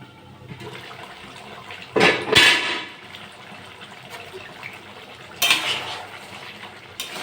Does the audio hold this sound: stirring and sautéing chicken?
yes